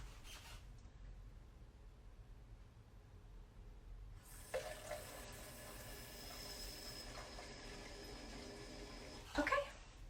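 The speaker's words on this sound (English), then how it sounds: "I'm going to add in my water" Water pours steadily into a measuring cup already holding grapefruit juice, a close, hissing splash that starts suddenly and runs for several seconds before a brief clatter at the end, with no talking.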